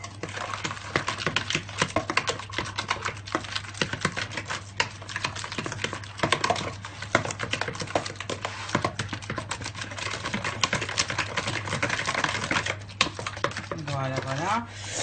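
Egg yolks, sugar and oil are mixed in a bowl for a Passover bouscoutou cake batter, making rapid close clicking and tapping like a whisk or spoon against the bowl, over a low electrical hum.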